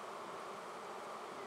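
Bees buzzing near a flowerpot swarm bait hive, a steady, dense, continuous hum with no pauses.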